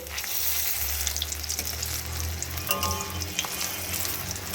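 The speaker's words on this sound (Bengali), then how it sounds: "একটু কড়া করেই ভাজতে হবে" Pointed gourd fritters frying in hot oil in a pan, giving a steady close sizzle and bubbling that carries on without talk.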